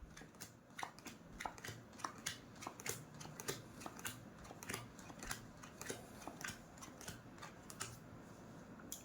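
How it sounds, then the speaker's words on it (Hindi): Playing cards dealt one by one for a mentalism card trick: a steady run of soft, crisp snaps and slides, close and quiet, with no talk. "तो आप इस तरह से कार्ड डील करेंगे।"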